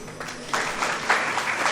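Audience clapping at a spiritual discourse lecture in Dahisar, Mumbai, a moderate burst of applause from a crowd that swells in waves over under two seconds.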